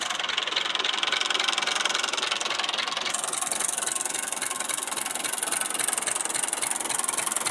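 A Massey Ferguson 240 tractor engine runs steadily, a dense, loud, hissy mechanical clatter with even knocking that stays constant throughout, with no talk over it.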